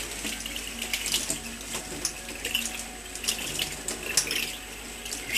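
Water flushed through a homebrew airlock, a running, splashing stream with small clicks and knocks of plastic parts, steady and close.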